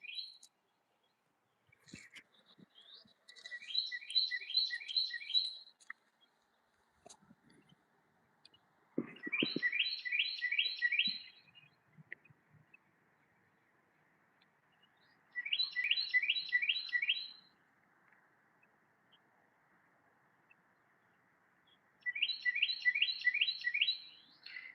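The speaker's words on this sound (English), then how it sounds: "Sometimes these are mockingbirds too." Repeated bursts of rapid chirping bird song from mockingbirds in a garden, four distinct phrases spaced several seconds apart, clear and moderately near over a quiet background.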